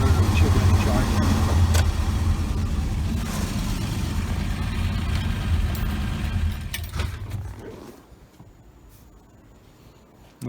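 A 1966 Dodge Dart engine runs and is given a little gas, a fairly loud rumble lasting most of the stretch before fading to near silence, with some faint talk underneath.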